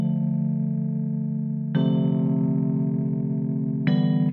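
Smooth Afrobeat and Amapiano keyboard chords run through a Vox-style wah effect, sustained and steady with a brighter swelling restrike partway through and another near the end, thick with chorus and echo coloring.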